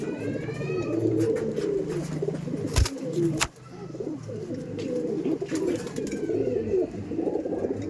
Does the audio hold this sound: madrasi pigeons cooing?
yes